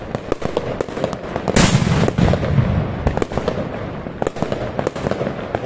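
New Year's fireworks burst in a rapid string of sharp bangs and crackles close by, one heavier blast standing out near the middle, with no talking.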